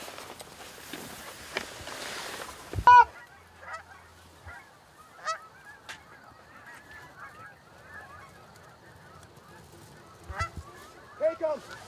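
Geese honk in scattered bursts during a New York goose hunt, some calls near and sharp, others faint and distant, with a loud thump and rustling of a hunter moving between calls.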